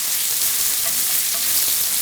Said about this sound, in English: So I'm going to brown up this sausage and then move on to the next step.